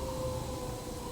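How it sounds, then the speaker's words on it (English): A sustained siren wail from the video game Journey, holding a steady tone throughout against a dense, rumbling background, loud and continuous with no pauses. "Siren, someone's dead."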